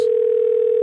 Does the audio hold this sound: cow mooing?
no